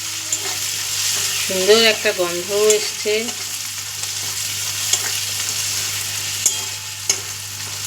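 Food frying in a pan, probably onions, with a steady sizzle running throughout and a short stretch of talk over it near the start.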